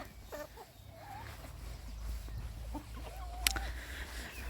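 Chickens clucking softly in a backyard coop in Yaremche, with one brief sharper call from a rooster standing out near the end against steady low background noise.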